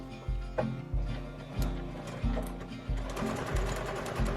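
A sewing machine stitches a seam on a fabric hip pouch in short bursts, several quick mechanical runs starting and stopping with a steady whirring rhythm, close up and fairly quiet with no talking.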